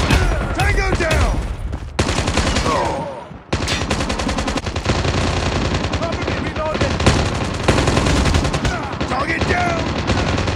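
Rapid automatic gunfire from the Call of Duty Mobile video game on the Nuketown map crackles loudly in dense bursts nearly throughout, broken by a brief pause, with game voice callouts mixed in.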